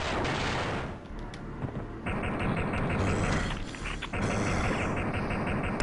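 Pistol shots ring out in the Duke Nukem 3D shooter amid game mechanisms and ambient noise, several sharp reports in quick succession over a dense, busy background.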